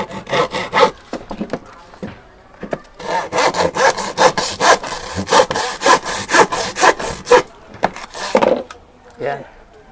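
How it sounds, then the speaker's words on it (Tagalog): Handsaw cutting through a marked piece of wood, close and loud, in rapid rhythmic strokes that stop and restart, with people talking briefly in between. "Kalagariin lang natin to."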